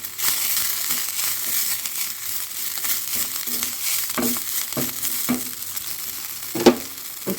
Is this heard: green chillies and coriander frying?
yes